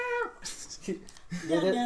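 A pet cat meows close by, a few drawn-out, whiny calls that rise and fall, mixed with a person talking in a casual podcast conversation.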